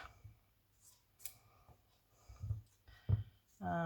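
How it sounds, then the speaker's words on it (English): Scissors cut out small embroidered fabric pieces: a few quiet, crisp snips spaced apart, with a voice starting at the very end. "So I'm just going to cut them out."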